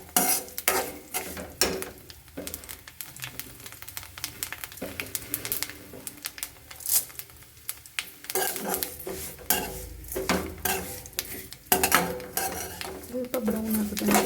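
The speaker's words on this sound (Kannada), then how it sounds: "ಶಾವಿಗೆ ಚೆನ್ನಾಗಿ ತುಪ್ಪದಲ್ಲಿ ಫ್ರೈ ಮಾಡ್ಕೊತಿದ್ದೀನಿ." Vermicelli frying in ghee while being stirred in a pan, with repeated metallic scrapes and clinks of a spoon against the vessel over a soft background sizzle, close and fairly quiet.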